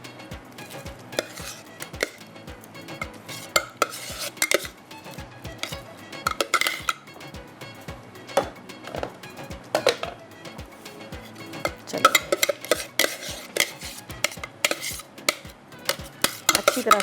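Kebab mince is mixed by hand with chili, onion and parsley in a bowl, giving soft squelching stirs and regular taps and knocks against the dish, fairly quiet, with no voices.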